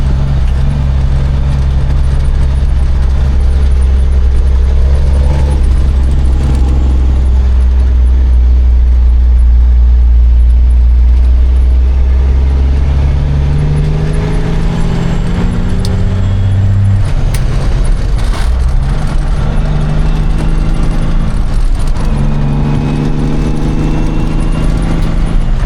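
A Cummins N14 red top truck engine runs with a loud, steady low rumble throughout, its pitch rising and falling as the revs change, with no voices over it.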